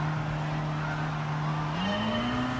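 Race cars in Gran Turismo Sport pull away at the start of a race at Fuji Speedway, with steady close engine drone rising in pitch as one car accelerates.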